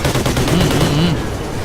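Loud, continuous gunfire from the video game Call of Duty Ghosts fills a brief moment, a dense burst of shots with a voice faintly underneath.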